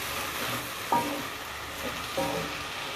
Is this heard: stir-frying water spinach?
yes